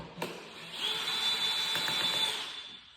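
A power drill fitted with a star bit runs on a 2022 Ski-Doo snowmobile, a steady close whine lasting about two seconds after a short click.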